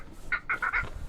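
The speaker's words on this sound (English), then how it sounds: "you can hear some birds squawking at me here" Seabirds squawk near the water on the Charlotte Harbor flats, a quick series of about four harsh calls, fairly close and clear.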